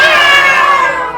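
An audience imitates cat meows together, a loud drawn-out chorus of human voices meowing that trails off over about a second.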